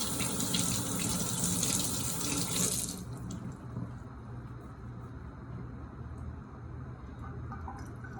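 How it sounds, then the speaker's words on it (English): Tap water runs close and loud into a sink while makeup brushes are rinsed, then the flow eases into a softer, steady trickle and splash. "feel free to go back and give it an extra rinse"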